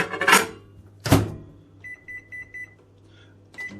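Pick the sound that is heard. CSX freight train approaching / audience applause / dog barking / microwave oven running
microwave oven running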